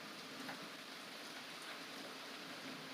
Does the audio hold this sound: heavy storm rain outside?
yes